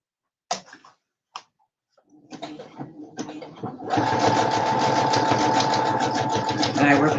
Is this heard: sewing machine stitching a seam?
yes